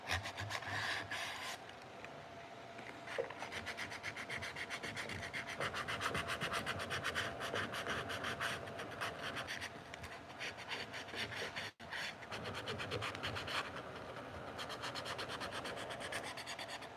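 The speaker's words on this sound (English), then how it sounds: "you want to take some sandpaper and you just want to scuff up this little edge right here" Sandpaper scuffing the edge of cured epoxy by hand, a steady dry rasping rub with quick back-and-forth strokes, close and continuous, with a brief pause near the end and no talking.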